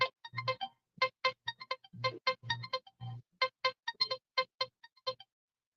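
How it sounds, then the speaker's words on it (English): A phone goes off over and over in a quick, irregular string of short bright electronic tones, close and clear with silent gaps between bursts and no talking. "my phone is going crazy"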